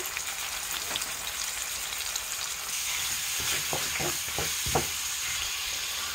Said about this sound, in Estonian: Nüüd praeme selle läbi.